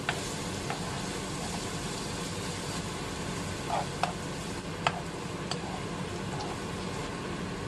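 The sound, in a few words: stir-frying pork belly with chili and garlic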